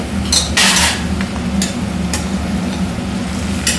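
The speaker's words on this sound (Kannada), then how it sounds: "ಒಂದು ಅರ್ಧ kg ಅಷ್ಟು ಹೆಚ್ಚಿ ಇದಕ್ಕೆ ಹಾಕ್ತಾಯಿದ್ದೀನಿ" Chopped tomatoes, about half a kilo, going into a pulav pan to fry, with clattering metal pan and utensil sounds over a steady low hum, close and fairly loud.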